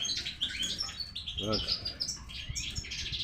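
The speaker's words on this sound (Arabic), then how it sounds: "هذا الطائر ما شاء الله" A goldfinch sings up close in bright, rapid twittering phrases and chirps, with a short buzzy trill in the middle and a faint room hum underneath.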